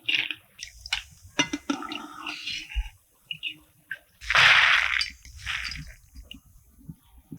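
Boondi batter fries in hot oil while a metal spoon stirs it, giving scattered clinks and scrapes and one brief surge of sizzling.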